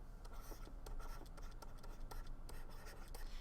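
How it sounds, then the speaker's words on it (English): A pen scratching across paper in a quiet room as someone writes in a different colour, soft close strokes in a quick irregular rhythm. "I'm going to write him in another color"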